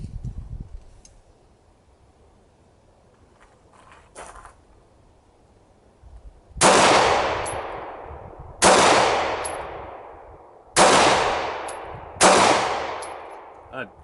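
A Remington R51 pistol with an out-of-battery discharge fault fires four loud, close shots at uneven intervals, each ringing out before fading. Quiet mechanical clicks come before the shots.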